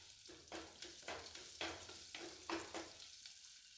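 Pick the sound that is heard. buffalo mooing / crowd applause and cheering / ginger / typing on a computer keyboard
ginger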